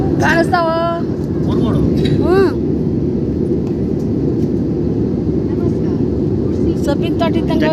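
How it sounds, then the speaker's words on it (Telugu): Loud, steady cabin roar inside an airliner in flight to Odisha fills the whole stretch, a dense constant engine and air rush with people talking over it near the start and end. "ఫ్లైట్ ఎక్కిపోతాండి అది ఒరిస్సాకి"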